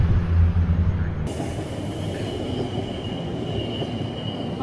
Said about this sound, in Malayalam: ഇതാണ് മെട്രോ